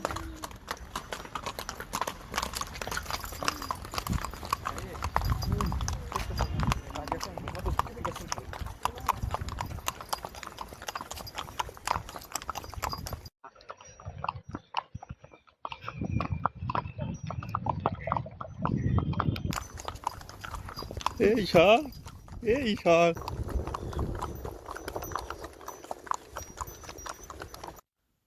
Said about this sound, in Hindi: घोड़सवारी का मज़ा ले रहे हैं।